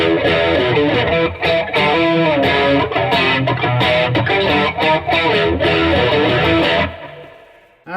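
An electric guitar played through an overdrive pedal with chorus added gives a loud, continuous run of distorted, shimmering chords and notes that cut off near the end, leaving a fading tail and brief silence.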